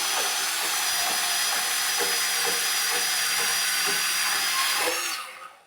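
A DeWalt 12-volt portable band saw cuts through palm wood with a steady, loud whine and a buzzing motor, its blade grinding with a faint rhythmic pulse before the motor winds down and stops at the end.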